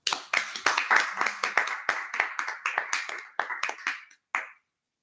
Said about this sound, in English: Please let me ask you for them another round of applause